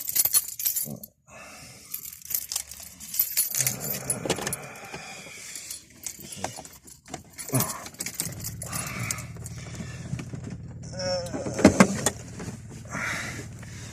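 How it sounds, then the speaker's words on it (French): Someone gets into and starts a car: keys jangle, a door clunks shut, and scattered interior clicks and movements are followed by a brief starter crank before the engine settles into a steady low idle. "On prend la voiture de mon frère."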